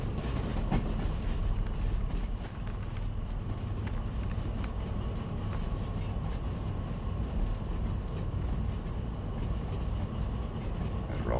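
A train rolls steadily along the line in the Derail Valley simulator, its low rumble and faint wheel clatter continuous, loud and close throughout.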